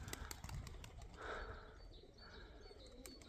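Pigeons, including a young pearl pigeon, flying toward the listener in a loft setting, faint flapping wings with soft coos and chirps mixed into low outdoor noise, distant and quiet.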